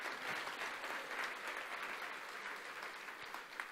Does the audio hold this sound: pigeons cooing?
no